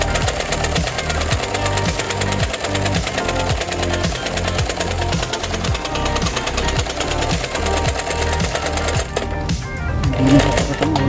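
An ordinary sewing machine, just repaired, runs steadily through a test stitch with a loud, continuous rapid mechanical chatter and rhythmic needle thumping that stays close and unbroken throughout.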